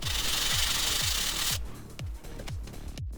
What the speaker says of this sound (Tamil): சாண்ட் பேப்பரை வச்சு கீழே இந்த மாதிரி தேய்ச்சிட்டே இருந்திங்கன்னா ஒரு ரவுண்டு மாதிரி வந்துடும்